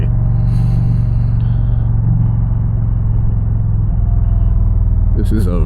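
An Indian Challenger motorcycle on a ride along a country road, its engine a steady, loud, low drone that holds constant throughout, with a brief shift near the end.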